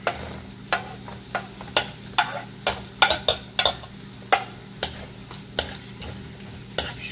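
Garlic and onion sautéing in a pan for duck curry, a faint low sizzle under a steady series of sharp spoon taps and scrapes against the pan, spaced roughly every half second.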